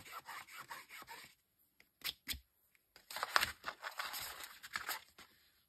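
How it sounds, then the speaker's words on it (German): A bone folder runs along the edges of a paper gift box, giving soft close rubbing and scraping strokes in short bursts separated by pauses, with no voices. "dass ich hier schon mal mit dem Falzbein über die Kanten gehe, damit das eine schöne scharfe Kante wird"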